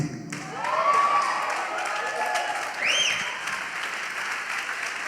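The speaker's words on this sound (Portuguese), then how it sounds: "Vamos aplaudir melhor, irmão. Vamos aplaudir." Church congregation applauding in a steady wash of clapping, with faint singing or voices over it and a brief swell near the three-second mark.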